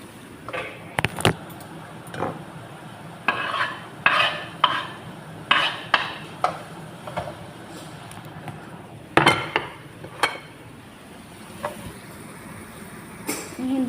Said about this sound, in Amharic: ይሄ እንደዚህ አድርጌ እንደዚህ እያማሰልኩ ቀይ እስከሚሆን ባህራት እጨምርበታለሁ ማለት ነው።